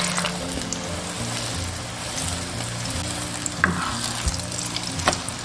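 Beaten eggs frying in hot cooking oil in a wok, a continuous close sizzle and crackle with a few utensil scrapes and taps near the end.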